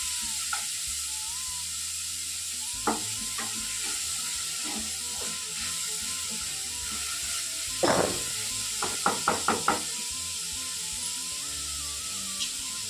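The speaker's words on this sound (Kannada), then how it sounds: "ಈಗ ನೀಟಾಗಿ ಎಲ್ಲ ಕೂಡ ಫ್ರೈ ಮಾಡ್ಕೊತಾ ಇದ್ದೀನಿ" Onion, tomato and ginger fry in hot oil for a village-style mushroom curry, giving a steady background sizzle broken by occasional stirring scrapes and a quick run of sharp utensil clinks near the end.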